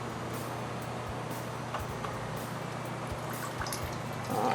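Water streams steadily from a small air valve at the end of a line in a Frontosa cichlid hatchery tank, a continuous close splashing trickle with a brief louder surge at the very end.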